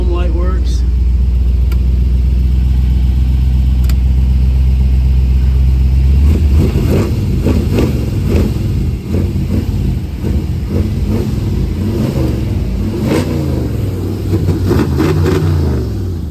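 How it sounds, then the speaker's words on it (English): A 1957 Chevrolet two-door hardtop idles with a deep, steady exhaust rumble, loud and close at first, then continuing lower under someone talking. "Got a good sounding exhaust on it."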